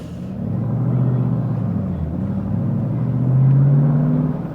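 A 2007 Ford Mustang GT convertible drives along a bumpy road, a loud steady V8 engine rumble rising in pitch as it accelerates near the end, heard from inside the car.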